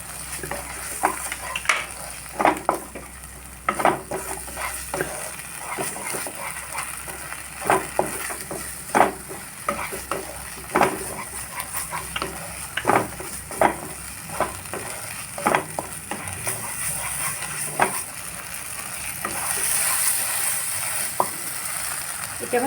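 Cashews frying in hot oil in a pan for a potol posto recipe, a steady sizzle broken by repeated scraping and clinking strokes of stirring, close and fairly loud.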